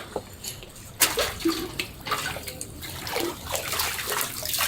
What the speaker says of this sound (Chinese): 哇，这一桶还挺沉， 打上来这个水啊，特别的清澈